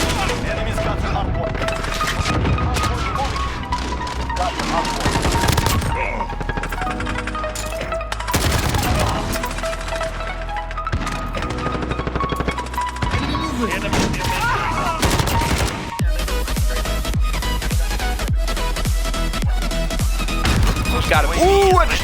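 The CR-56 AMAX assault rifle fires in a multiplayer shooter video game, with loud, rapid automatic bursts broken by short pauses, along with scattered impacts and explosions and some game noise in between.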